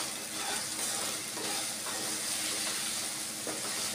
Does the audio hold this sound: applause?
no